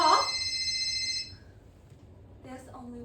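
A cell phone rings in a theater audience, a bright electronic ringtone for about a second before cutting off. Quiet room tone follows, then a person starts speaking.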